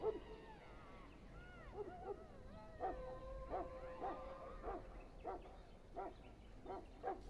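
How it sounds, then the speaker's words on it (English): A Mabari war hound from the video game Dragon Age: Origins gives a string of sharp yips, barks and whines, about ten short bursts spread evenly over several seconds at moderate level. "I fear your hound has the kitchens in uproar once again, and is threatening to leave."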